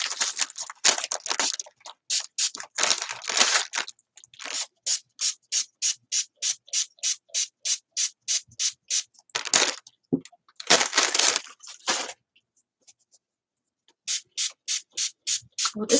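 A hand sprayer used in mixed-media crafting puffs out a long run of quick, evenly spaced hissing spritzes, close and crisp, broken by a few longer rough bursts and brief pauses.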